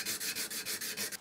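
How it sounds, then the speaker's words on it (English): A card scraper rubbed on a sharpening stone to remove the burr: about seven quick, even back-and-forth strokes, a close, soft, gritty rasp repeating steadily with no voices. "So I've just got to remove the burr off this one here."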